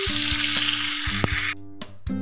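Pointed gourd (potol) frying in oil in a pan, a close steady sizzle with a few soft clinks, cutting out abruptly near the end before brief bursts return.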